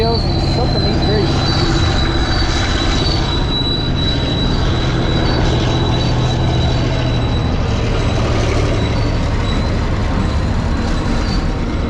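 A train rumbles steadily past up close, loud and continuous, with a high metallic wheel squeal ringing over the roar.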